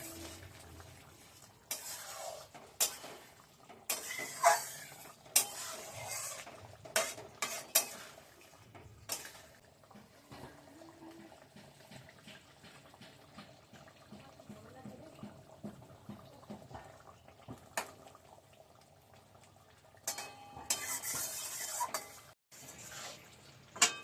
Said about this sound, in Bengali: নাড়া দিয়ে দেখি।